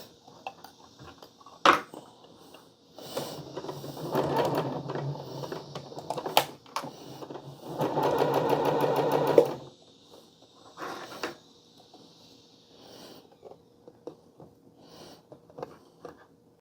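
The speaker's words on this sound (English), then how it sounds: "I'm going to sew around" Sewing machine running in bursts while stitching around the hood of a raglan hoodie made from Alpha Direct fabric, with two sustained runs among clicks and handling noises, close and moderately loud.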